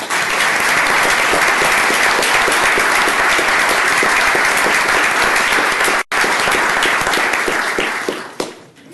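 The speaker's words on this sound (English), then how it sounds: "One more round of applause for everybody." Audience at a county commissioners court meeting gives a loud, sustained round of applause, many hands clapping together in a room, holding steady for several seconds before briefly breaking off and then fading out.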